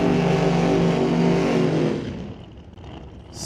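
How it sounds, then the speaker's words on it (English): A drag race car doing a high-speed burnout at a drag racing eliminations event roars loudly with its engine for about two seconds, then the sound fades quickly as the car moves away. "He likes those, I call them high-speed burnouts."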